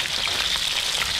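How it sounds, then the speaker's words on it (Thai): Battered shrimp frying in a pan of hot oil in a home backyard kitchen, giving a steady, close, bright sizzle that runs without a break and with no voices. "ก็เป็นกุ้งชุบแป้งทอดแบบง่ายๆนะครับ"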